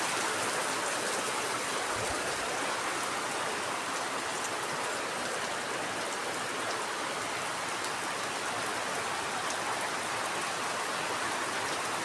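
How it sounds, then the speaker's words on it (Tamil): Heavy rain pours down steadily, a dense, constant hiss of water striking surfaces, unbroken for the whole stretch and with no voices. "தீபாவளி அதுவுமா எங்கள் ஊரில் சரியான மழை பாருங்களேன்"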